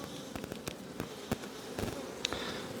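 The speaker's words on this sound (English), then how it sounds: "We've got lots and lots of bees." Honeybees buzzing around an open hive during an inspection, a steady close drone with sharp intermittent clicks and knocks from handling frames.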